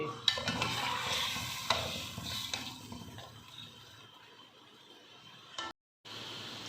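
Ginger frying in a pot of oil for mutton yakhni pulao, a soft sizzle with stirring scrapes that fades toward the end, followed by a brief cut to silence.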